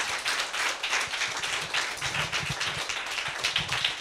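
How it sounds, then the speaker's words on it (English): An audience at a talk with historical fiction author Katherine J. Chen applauds, a dense steady patter of many hands clapping at moderate distance, alone without speech. "Can we have a big round of applause first,"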